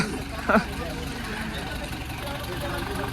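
A motorcycle engine idles steadily with a low, even throb, joined by a brief sharp knock or clank near the start.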